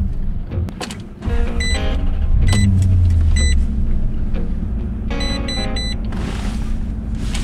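Maserati car being switched off and restarted on a long winter road trip, with a steady engine and blower hum, electronic chimes repeating in short bursts, and a low whirring surge as it comes back on.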